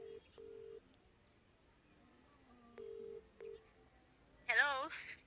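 Telephone call ringing: repeated electronic ring tones in short bursts at a steady pace, followed by a louder chirpy warbling tone near the end, with a quiet background.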